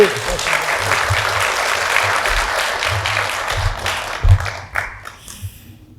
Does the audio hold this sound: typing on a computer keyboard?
no